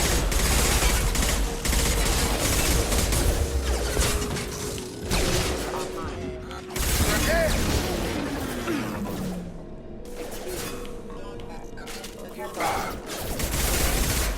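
Gunfire against hostile mechs in Mass Effect 2: rapid bursts of shots and mechanical clatter, moderately loud, with brief pauses and a falling whine, alongside spoken voices.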